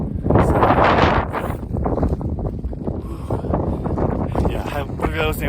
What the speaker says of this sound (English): I wasn't able to take videos just because it's so windy.